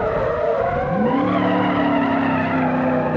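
Tires squeal in a long, loud, sustained skid as an overpriced American pickup truck drifts sideways in BeamNG, the pitch sliding upward and then holding steady over engine noise.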